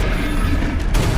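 A Confringo fire spell detonates in a wizard video game, producing a single loud, dense blast that crackles and roars for about a second and surges again at the end.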